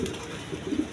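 A German Shield pigeon cooing, one brief low throaty coo, close and clear, with no talk over it.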